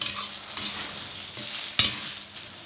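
Fried moringa drumsticks are stirred with roasted peanut powder in hot oil, giving a steady soft sizzle under gentle scraping, with one sharper clack of the spoon near the end. There is no talk.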